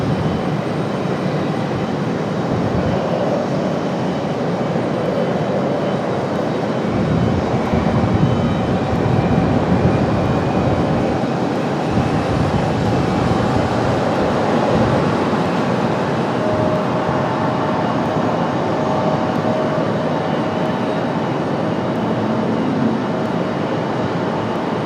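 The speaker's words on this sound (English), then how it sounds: "Like we got a little CRJ action up for departure." A CRJ regional jet departs Raleigh-Durham International Airport on a breezy afternoon, its engines a loud, steady, broadband roar that holds for the whole stretch, slightly swelling partway through, with no voices.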